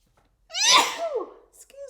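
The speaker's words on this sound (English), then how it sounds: "Oh, I'm gonna sneeze." A single sharp sneeze from an adult, close and fairly loud, bursting out after a brief quiet moment and followed by a short spoken remark.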